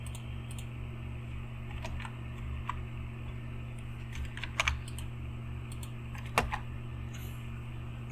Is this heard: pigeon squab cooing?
no